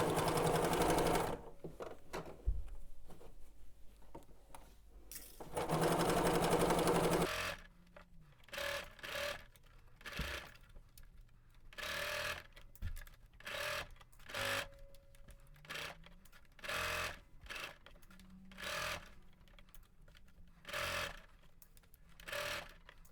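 Domestic sewing machine stitching a curved garment seam at 5/8 inch allowance, running in several short and long bursts of fast mechanical whirring, close and clear with pauses between runs and no talk.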